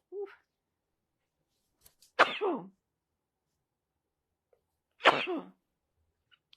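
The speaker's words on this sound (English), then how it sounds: "I'm going to sneeze" Two sharp sneezes a few seconds apart, close and fairly loud, each a quick burst, with a small catch of breath before.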